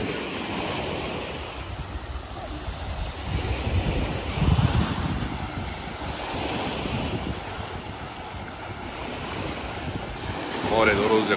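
Sea waves roll and wash onto Konyaalti beach in Antalya on a cool day, a steady surf mixed with wind buffeting the microphone, with a voice briefly near the end.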